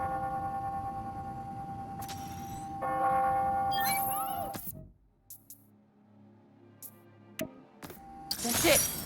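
Bells ring out on the hour in the Spider-Man: Miles Morales video game, a sustained tonal chime over a dense game soundscape for the first few seconds, then fading into quieter ambience with scattered clicks and a final burst of noise.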